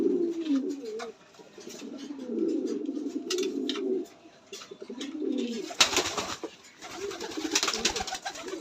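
Pigeons kept in a loft, released together, coo repeatedly in low rolling phrases, with rustling, shuffling and a burst of flapping and scuffling as birds move about and scrap nearby.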